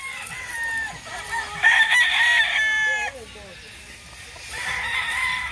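Roosters of a breeding farm for fighting-cock stock crow several times, loud and near, overlapping calls with a brief pause in between, over a busy rural yard.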